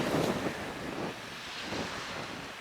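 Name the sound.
wind blowing on the coast at a campsite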